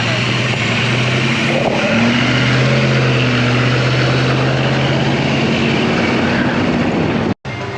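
A classic Chevy car engine runs steadily at quarter throttle, a loud continuous drone with a low harmonic hum and no pauses until a brief dropout near the end.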